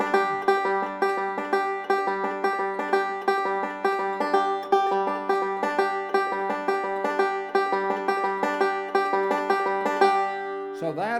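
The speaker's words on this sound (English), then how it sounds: "Now let me play it a little faster, and you might hear the energy a little bit better that way." Banjo picked in quick, continuous rolls at a faster tempo, bright plucked notes ringing in an even, driving rhythm for about ten seconds, played solo and close with no talking.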